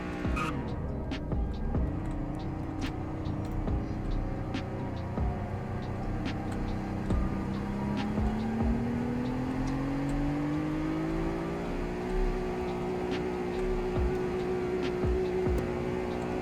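Car engine in the Roblox Greenville game during a speed test, a steady whirring drone whose pitch climbs smoothly as it accelerates, with faint clicks over the top and no speech.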